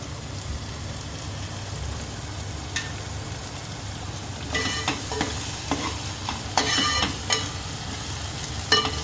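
Tomato puree sizzling and frying in a pan for paneer dum biryani, with a steady soft crackle and intermittent stirring scrapes that grow a little busier toward the end.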